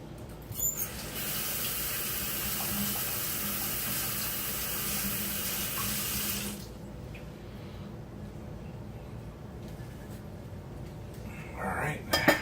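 A kitchen tap runs into a sink while food is washed under it, a steady close rush of water for about six seconds that then cuts off, leaving soft handling clatter, with a brief voice at the end.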